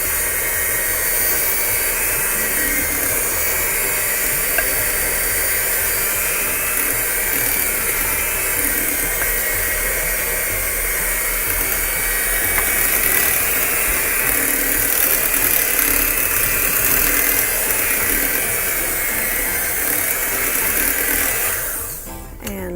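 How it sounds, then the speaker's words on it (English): An electric kitchen mixer blending ingredients for a pumpkin dish, a loud continuous motor whine and whir running steadily and evenly before cutting off at the end. "let's start back with our mixer to blend that in"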